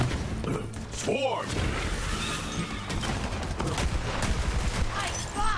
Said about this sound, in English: I love this pistol so much. It's just chaos.